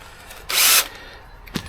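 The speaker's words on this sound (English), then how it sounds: "Oh, drill." Short burst of a power drill working on a Ford Focus RS Brembo brake disc, a single sharp whir of about a third of a second, then a faint clack in a quiet workshop.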